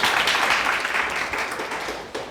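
An audience claps for a chairman being introduced at a regional apple growers' association consulting session in Namwon, a brief burst of scattered applause that swells at once and then tapers slightly, with no speech over it.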